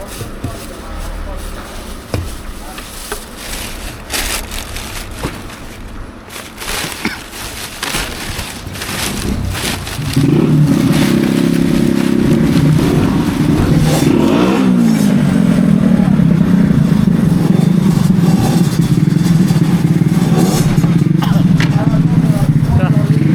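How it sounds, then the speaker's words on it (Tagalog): Voices and clatter give way to a motorcycle engine that starts and runs loudly nearby, a steady buzzing roar with revs rising and falling. "Ingay ng motor."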